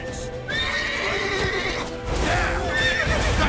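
Horse in The Witcher 3: Wild Hunt, a loud close whinny rising and trailing off, then a second neigh with hoof clip-clops and background game sounds beneath.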